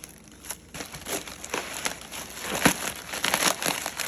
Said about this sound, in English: I think you're cutting into the comb.